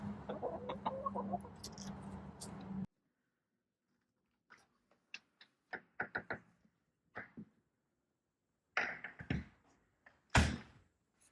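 A hen clucks near the coop in winter, with a short busy stretch of clucking at first, then scattered soft clucks and pecking taps separated by quiet gaps.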